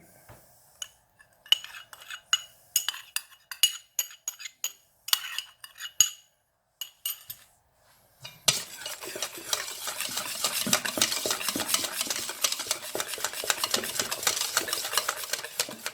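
A utensil stirs a mixture into rouille for a fish soup, giving scattered clinks and scrapes at first, then a steady close scraping, swishing stir that runs continuously to the end.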